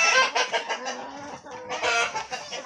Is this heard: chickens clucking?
yes